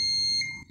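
A multimeter set to continuity gives a short, steady high-pitched electronic beep across the black and blue wires of a single-phase pump connector, loud and close, cutting off after about half a second.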